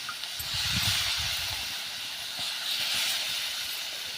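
A loud, steady hiss of water sprinkled onto bitter gourd frying in a hot pan, sizzling continuously without voices.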